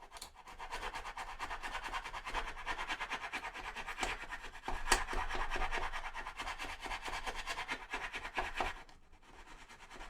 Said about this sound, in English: Use a little flat rasp now.